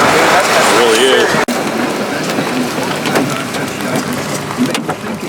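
Golf ball and ping pong ball size hail falling during a violent tornado near Katie, Oklahoma, a loud dense clatter with a steady roar of wind and rain under it and a person talking.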